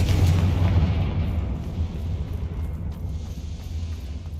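Explosive blasts from the Bombarda and Confringo spells in the wizarding game Hogwarts Legacy, a heavy booming rumble at the start that decays into a lingering low roar, with no talking.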